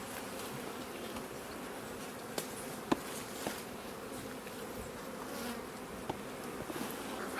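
Bees buzz steadily around a very small beehive outdoors, a continuous close drone of many insects with a few brief sharp ticks and knocks.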